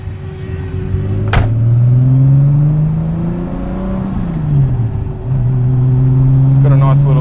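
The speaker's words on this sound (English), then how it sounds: "It's amazing how much the just making it a 3-litre changes the exhaust note as well." A turbocharged 3-litre BMW E28 engine revs hard, the loud exhaust note climbing, easing off and rising again, with a sharp click near the start and a brief whirring flutter at the end.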